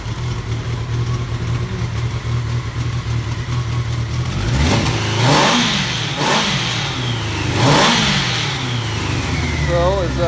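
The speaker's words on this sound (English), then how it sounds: "the engine runs very nice" A motorcycle freshly serviced after carburetor work idles steadily, then revs up sharply twice in quick rising and falling surges, close and loud, with brief talk near the end.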